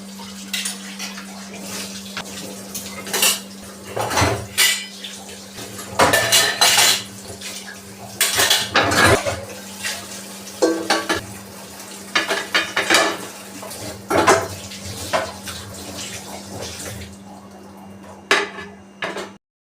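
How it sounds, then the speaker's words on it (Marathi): Cooking pots and utensils are scrubbed and washed by hand, with repeated clanks and scrapes of metal vessels over a steady low hum, loud and close, in irregular bursts. "आता इथे जे काही स्वयंपाकासाठी काढलेले भांडे होते ते पटापट मी घासून आणि धुवून घेतले"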